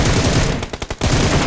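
Rapid automatic gunfire from the PUBG Mobile battle royale game on the Livik map, a dense loud burst of shots in quick succession with a few distinct cracks near the end.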